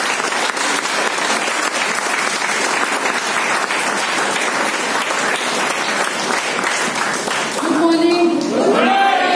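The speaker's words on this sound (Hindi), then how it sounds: "वापस एक जोरदार ताली बजा के बेटी को शुरू करवा दीजिए।" Loud, dense applause from an audience at a Women's Day celebration, sustained for several seconds before a voice begins speaking over the tail of the clapping.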